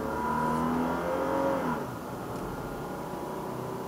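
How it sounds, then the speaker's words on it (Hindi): A car on the Islamabad to Lahore motorway accelerates with a rising engine note that then eases into a steady cruising drone with road noise, heard from inside the vehicle. "मुझे तो ये साउंड जो है मज़ा देता है गाड़ी का, जब उसकी पावर आपको बताती है कि हाँ मैं ये कर सकती हूँ।"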